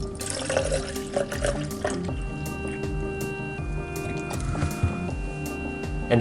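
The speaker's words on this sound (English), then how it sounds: "And the next step, you fill it up with water." Water runs from a tap into a graduated measuring cylinder while a film developing solution is prepared, a soft, steady trickle and splash that stays faint and close throughout.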